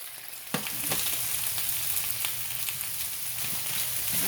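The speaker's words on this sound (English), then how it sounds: "I'm trying to multitask and cook my vegetables and my meat at the same time." Vegetables with a tablespoon of parsley sizzle steadily in a skillet, a constant close frying hiss with a few small stirring clicks and pops, no voice.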